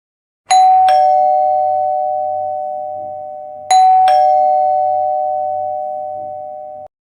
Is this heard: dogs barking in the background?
no